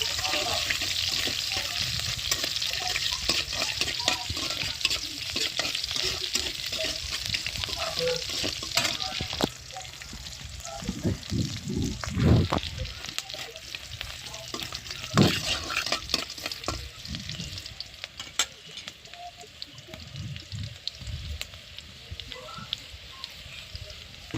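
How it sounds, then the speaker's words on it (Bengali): Small puti river fish fry in a pan with a continuous crackling sizzle, punctuated by scraping and stirring sounds, with a brief murmur of voice partway through. "এখন মাছগুলো দেখো খুব সুন্দর ভাজা হয়েছে"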